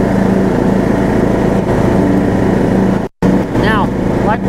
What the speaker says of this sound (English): I'm gonna lower down here to about 2 inches and go ahead and mow here so you can see